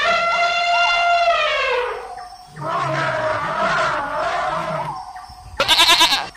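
Livestock bleating loudly and close, a long wavering call followed after a pause by a shorter, harsher cry; the animal is identified as a sheep, and no one speaks.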